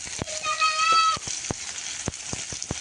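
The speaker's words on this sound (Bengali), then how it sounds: "ডিম ভাজা তেলেই দিয়ে দিয়েছি পেঁয়াজ কুচি," Chopped onion frying in oil left from frying duck eggs, a steady sizzle under sharp spatula knocks, with a brief high whine or chirp near the start.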